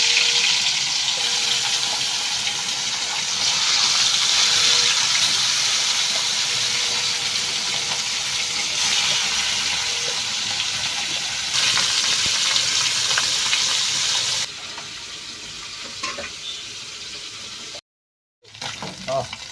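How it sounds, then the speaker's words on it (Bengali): Steady sizzling of fish frying in hot oil in a wok, a dense crackling hiss that drops in level partway through, with faint clatter near the end. "কড়াই তেল গরম হয়ে গেছে, আমি মাছটা দিয়ে দেবো।"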